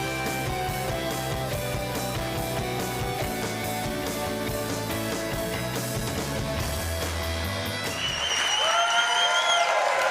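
A studio audience at a TV show taping in a shopping mall studio breaks into applause over closing theme music, the clapping swelling louder and dense as the music fades out.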